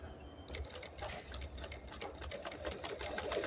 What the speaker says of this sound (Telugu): కొంచెం నేను లేపుతూ ఉంటాను, మీరు కుట్టు వేయండి ఇలా పాదం.